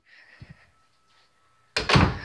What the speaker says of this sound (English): And open bathroom doors.